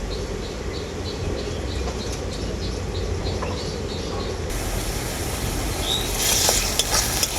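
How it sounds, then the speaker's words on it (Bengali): Garlic paste fries with onions in a pan, a steady close sizzle with stirring, while faint bird chirps sound in the background. "রসুন বাটাটা আমি পেঁয়াজের সাথে খুব ভালো করে ভেজে নেব"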